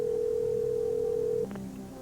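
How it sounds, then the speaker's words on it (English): A telephone dial tone on a game show phone-a-friend call hums steadily and loud for about a second and a half, then cuts off into a brief click and faint line noise. "we're going to get Sue on the line"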